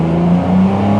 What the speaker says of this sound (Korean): 이 터보 엔진을 가지고 있는 경주용차 중에서 소리가 가장 곱다고 해야 될까요?